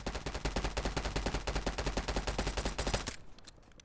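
Rapid automatic gunfire in a shooter video game, a fast even stream of sharp shots lasting about three seconds before stopping abruptly, loud and close with no talking.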